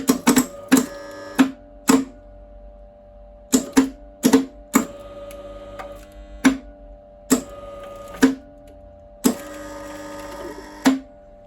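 A newly repaired welder clicks sharply each time its gun trigger is pulled, giving a string of loud, irregular clicks, some doubled, over a steady electrical hum.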